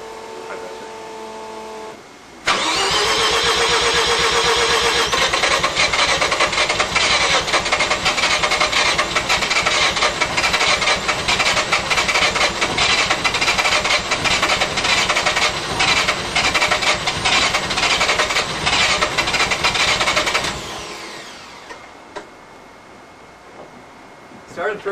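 A Mazda RX-7 with a Bridgeport-ported turbo rotary engine fires on the first crank after a short quiet stretch, then runs loud and rough for about eighteen seconds before cutting back to a faint low hum.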